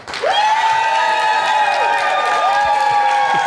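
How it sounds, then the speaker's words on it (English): Audience at a Farmers Market Feud game show, a quiz contest held at a farmers market, breaks into loud, steady applause with shrill cheers and whoops rising over it, lasting the full few seconds. "If you like the answer over here, applaud now"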